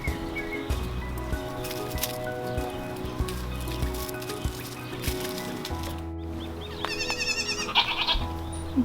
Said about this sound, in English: This little goat, man.